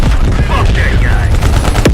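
Loud, dense gunfire in Call of Duty: Black Ops Cold War, a continuous automatic fusillade in close combat in an urban area, with brief voices mixed in.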